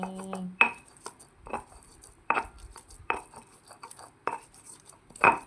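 Spices for peyek are ground by hand, giving a series of irregular hard knocks and clinks with scraping in between, fairly close and with no talking.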